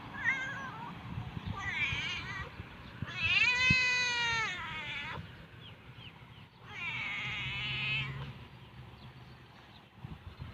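A cat meows in a garden, giving a few drawn-out, wavering meows at moderate distance separated by pauses, over faint outdoor background noise.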